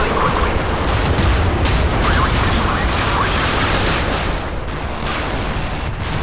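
Warship guns fire without pause in the naval combat game Modern Warships during a ranked match with the cruiser USS Shiloh, a loud, dense barrage of booms and blasts that keeps up throughout.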